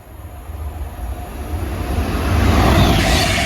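An Avanti West Coast Class 805 train running from London Euston to Preston passes close by, its rumble and rush swelling louder over a few seconds as it approaches.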